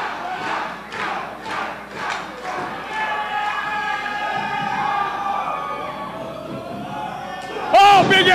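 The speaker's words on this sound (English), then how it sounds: "Listen to this crowd." A large crowd at a professional wrestling event roars and chants in waves, with rhythmic pulses early on, while commentators talk over it and a loud thump near the end.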